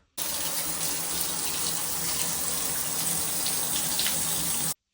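Water leaks from inside a shower unit with a steady, loud rushing hiss that starts and stops abruptly, heard close and alone without any voices.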